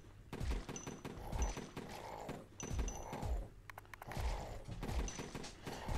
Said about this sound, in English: my character's firing, but I'm tapping my screen to make him fire